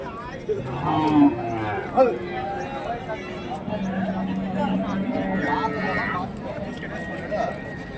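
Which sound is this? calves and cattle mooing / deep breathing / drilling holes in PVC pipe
calves and cattle mooing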